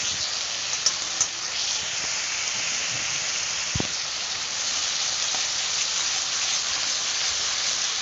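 Spice paste frying in tomato puree in a pan, giving a continuous bright hissing sizzle at fairly loud, even level, with a few small pops and one sharp tap near the middle.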